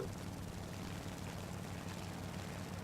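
A warplane engine in War Thunder drones steadily with a dense, unbroken propeller roar and no pauses throughout.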